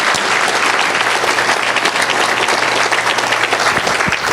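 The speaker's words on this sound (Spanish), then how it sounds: "Denle un fuerte aplauso al Señor si usted lo cree." A church congregation breaking into loud, sustained applause, dense clapping from many hands filling the room for several seconds with a low hum underneath.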